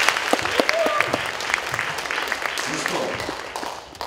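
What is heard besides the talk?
audience applause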